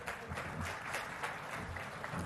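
An audience applauds to welcome a speaker onto the stage at a government event on Musi riverfront beautification, a steady dense wash of clapping filling the whole short stretch.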